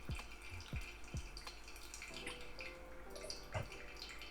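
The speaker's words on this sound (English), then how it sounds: "So that's when I start my second pour." Hot water poured from a kettle over coffee grounds for a pour-over brew, a soft, close trickle with small drips and gurgles, quiet and steady without talk.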